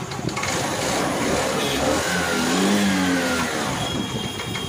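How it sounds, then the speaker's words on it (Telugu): A motorcycle engine starts and revs steadily, a continuous close mid-pitched drone that swells in a few throttle rises while running alone without talk. "ఓకే, బండి అయితే స్టార్ట్ చేశాను, అయిపోయింది."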